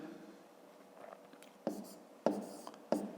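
A pen writes numbers by hand on paper for a fifth-grade maths exercise, with faint scratching followed by a few sharper taps and strokes, quiet and close.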